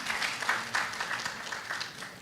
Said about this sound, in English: Let's give a round of applause to the presenter.